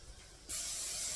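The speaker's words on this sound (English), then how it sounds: "So I'm going to grease that up real well." Cooking spray hisses onto a small egg pan in a single sudden, close burst after a quiet moment, sustained and even to the end.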